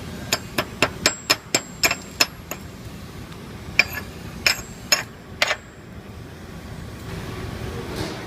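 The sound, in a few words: hammer chipping ferrule off a steel stud weld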